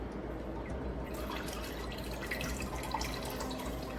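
Makgeolli, the Korean rice wine, drips slowly through a filter with a quiet, close trickle and soft scattered drops.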